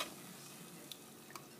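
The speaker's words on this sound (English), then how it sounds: "I'm going to keep stirring this" Tootsie Rolls melting in a pot give a faint, soft bubbling hiss, with a couple of light spoon ticks while being stirred, quiet and short, with no speech.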